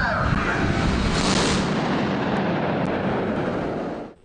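Naval gunfire from the Russian missile cruiser Moskva during a Black Sea drill booms out as a loud, sustained rumbling blast that rolls on for several seconds before cutting off.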